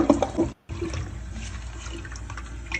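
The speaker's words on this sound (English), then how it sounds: "flushing money down the toilet" A toilet flushes as money is sent down it: a loud, close rush of swirling water that cuts out briefly, then continues as a steady gurgling drain with no voices.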